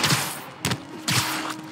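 Gunshots in Marvel's Spider-Man Remastered, three loud bursts of game gunfire in quick succession over a dense background of action noise.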